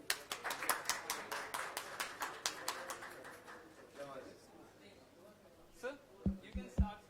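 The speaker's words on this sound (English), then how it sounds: "So let's initiate them with a great round of applause." An audience at a book talk gives a round of applause, a fairly faint run of distinct claps that fades after a few seconds, followed by scattered taps and a voice speaking.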